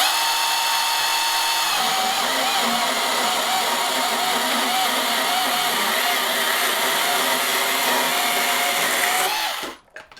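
An Ingco 20V cordless 6-inch chainsaw cuts steadily with a loud, sustained buzzing whine that stops abruptly at the end.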